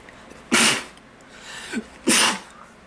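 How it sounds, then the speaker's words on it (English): Two sharp sneezes a second and a half apart, close and loud, with a small breathy catch between them. "oh, I feel like I gotta sneeze."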